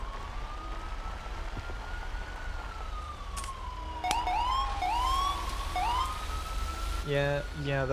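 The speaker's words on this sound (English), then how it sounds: "Oh my god, the siren is loud." Ambulance siren in GTA V FiveM roleplay, heard from a paramedic's vehicle: a steady, loud wail sweeps slowly up and down, then switches to quicker yelping chirps with a short burst of rapid pulses near the end, over low engine rumble.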